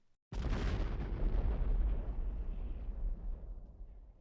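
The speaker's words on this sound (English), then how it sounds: "a deafening detonation as the mine blew apart the mountain" A huge wartime mine detonation blows apart a mountain peak in the Dolomites during World War I, a sudden deafening boom that breaks out of near silence, then rumbles on and slowly fades over several seconds.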